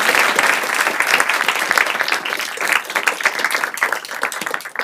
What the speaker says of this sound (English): Together with Deb Gales, would you give them a round of applause?